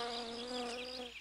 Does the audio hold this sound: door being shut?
no